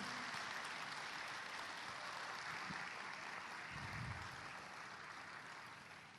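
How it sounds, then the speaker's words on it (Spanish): A church congregation applauds in a continuous, faint, diffuse wash of clapping that holds steady for several seconds with no voices rising above it. "Así que un doble aplauso a Él."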